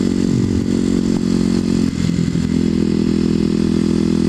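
A Kawasaki KLX250sf motorcycle being ridden through an urban industrial area: a loud, steady engine drone with a brief dip in the middle, plus some rattle and rushing noise, and no talk.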